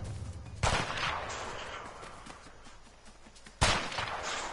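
Sniper rifle shots ring out in the video game A Way Out: two sharp, loud reports a few seconds apart, each with a short echoing tail over steady background game ambience.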